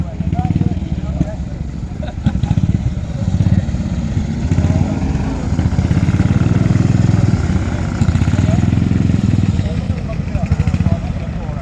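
Motorcycle engines rumble steadily and loudly throughout at a steam rally, with people talking faintly among the constant engine noise.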